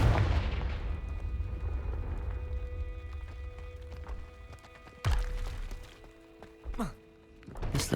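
A Confringo spell in Hogwarts Legacy bursts with a heavy low boom up close, followed by a few sharp thuds and a later crack over a quiet game ambience.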